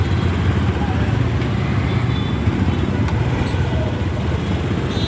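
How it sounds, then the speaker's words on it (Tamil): Heavy road traffic in Bengaluru: a dense, continuous roar of engines and tyres with a steady low rumble, loud and close, with faint higher horn-like tones, and no distinct talk. "டிராஃபிக்குங்க பெங்களூரில் அதிகம் டிராஃபிக் தான் இருக்குங்க."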